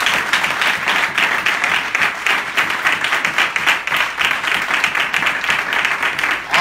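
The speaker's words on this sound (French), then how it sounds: "Acclamons pour le frère." A church congregation breaks into loud, sustained applause, many hands clapping steadily and close together for the whole stretch.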